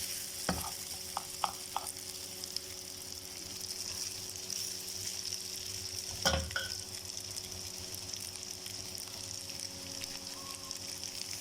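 Sausages frying in a pan as tomatoes go in and are stirred, a faint steady sizzle with a few sharp clinks of the utensil and one louder scrape midway.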